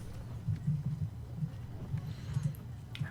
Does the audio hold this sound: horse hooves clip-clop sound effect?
yes